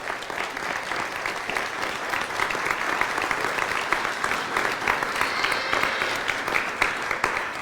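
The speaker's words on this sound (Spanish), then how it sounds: "Vamos a darles un fuerte aplauso" A church congregation applauds steadily, a dense wash of clapping from many hands at moderate distance with no voices over it.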